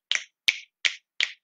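Four crisp finger snaps in a steady, even rhythm, with a fifth starting just at the end. Each snap is sharp, close and isolated in silence.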